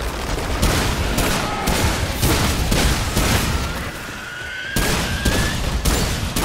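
Enemies open fire in the post-apocalyptic shooter Remnant 2, a loud, dense barrage of rapid gunshots and booms that pounds on almost without pause, easing briefly before resuming.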